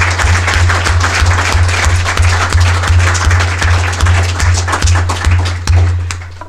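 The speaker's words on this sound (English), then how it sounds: "Let's have another round of applause for all of the speakers." Loud, sustained audience applause for the speakers at a public forum on regional drinking water protection, a continuous dense clapping throughout that eases off at the very end.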